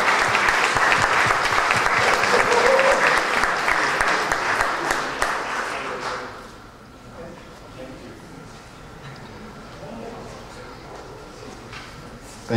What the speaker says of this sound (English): Let's give this group a well-deserved round of applause.